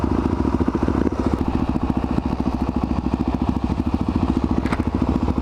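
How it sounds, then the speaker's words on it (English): A moped engine putters loudly and rhythmically close by on a street in Korea, a rapid chugging throb that holds steady for several seconds without any talking. "Is that dude on a moped?"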